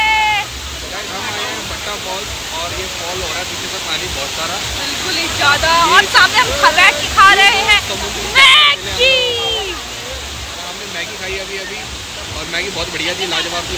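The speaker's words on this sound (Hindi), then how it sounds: "और ये फॉल हो रहा है, पीछे से पानी बहुत सारा" Bhatta Falls, a waterfall in Mussoorie, roars as a constant broad wash of water close by, while several people talk and call out loudly over it, especially in the middle.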